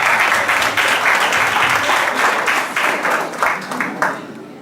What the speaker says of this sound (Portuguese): Uma salva de palmas para os 5